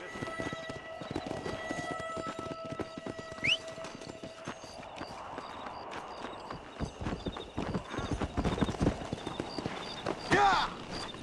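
Horse hooves clip-clopping at a steady gait in Red Dead Redemption, repeated close hoofbeats with a neigh and whinny partway through, amid outdoor ambience and a brief voice.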